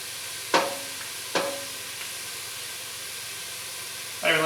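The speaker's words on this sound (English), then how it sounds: "Put about 4 cloves of garlic in here." Garlic cloves drop into a hot pot for tortilla soup, setting off two sharp sizzling bursts, then a quieter steady hiss with a fresh sizzle flaring at the end.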